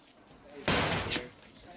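A classroom door slams shut once with a sharp, loud bang, followed by a brief decaying rumble in an otherwise quiet room.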